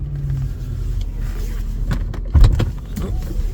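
A 1997 Ford LTD with a 5.0 V8 (302) drives along, its low steady engine rumble heard from inside the car, with a brief thump partway through and no talk.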